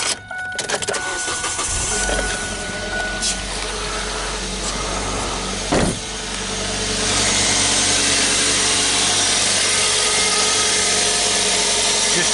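A 2008 Kia Spectra engine cranks and catches, then settles into a steady, loud idle that continues to the end.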